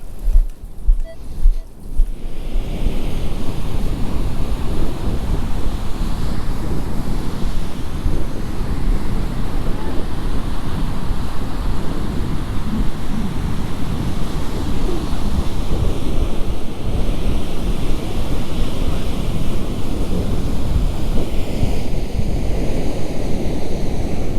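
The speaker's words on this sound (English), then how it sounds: "I think the waves are pretty good, at least for some surfing." Surf rolls onto Jensen Beach in a steady, continuous roar of breaking waves, heard close and loud with heavy wind buffeting the microphone throughout and a few thumps at the start.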